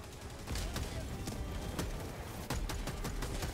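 Single-fire gun shots in the video game Helldivers 2 against robots, a string of sharp separate reports at an uneven pace amid busy game noise.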